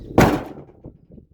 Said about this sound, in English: This door, when you shut it, it likes to rub the bottom of the cab, I think.